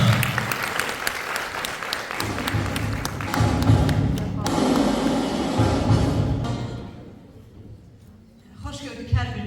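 Theatre audience in Lankaran applauds steadily and densely, sustained clapping from a large crowd that thins out before a brief renewed burst at the end.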